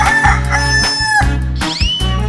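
A chicken in a 3D animal video game gives loud repeated crows and clucks, close and clear, over a pulsing electronic game beat with bright synthetic tones.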